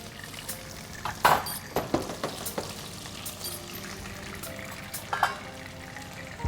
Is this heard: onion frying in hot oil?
yes